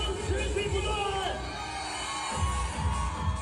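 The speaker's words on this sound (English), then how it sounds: "the crowd erupts, dancing wildly and shouting until their voices break" A crowd at a company team-building event in China roars and shouts continuously, a dense, loud wall of voices with no quiet gaps.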